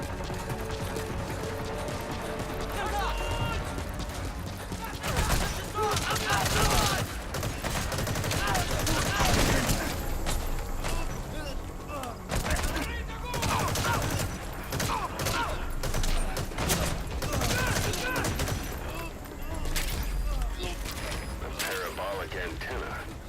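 Gunfire from the stealth-action game Metal Gear Solid V: The Phantom Pain, with rapid bursts and mechanical clatter crowding a dense in-game soundscape, while someone talks intermittently over the shots.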